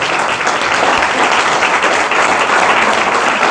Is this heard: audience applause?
yes